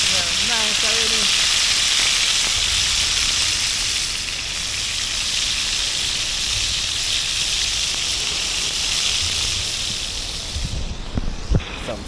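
Pieces of freshly caught eel fry in a hot pan with a loud, steady sizzle and crackle that carries on throughout, close by, easing slightly near the end with a few knocks.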